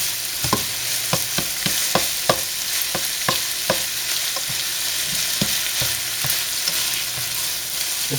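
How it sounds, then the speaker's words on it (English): Sausage is stirred and broken up in a hot pan, a continuous bright sizzle with a run of quick, regular utensil taps and scrapes, close and steady without speech. "Continue to stir around the sausage and break it up."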